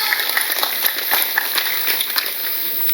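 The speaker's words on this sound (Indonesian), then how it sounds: "Tepuk tangan sek kok." An audience claps at an Indonesian Islamic religious lecture: a dense, continuous patter of many hands, fairly close and steady throughout.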